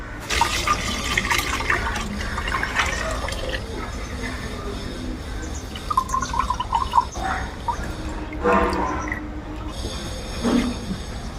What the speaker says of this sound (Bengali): এটাকে একটু নেট দিয়ে এরমভাবে ছেঁকে নিতে হবে